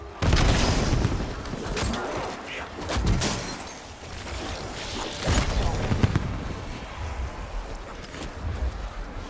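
Blasts and bursts of gunfire from a Black Ops 7 Zombies game: repeated booming impacts and rattling shots, loud and dense throughout, with a voice talking over them.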